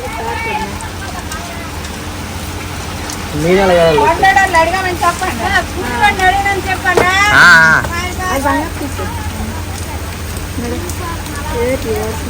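Steady rain falls outside a home as relatives are seen off, a constant broadband hiss running under loud, animated conversation between several people.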